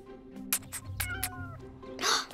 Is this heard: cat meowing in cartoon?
yes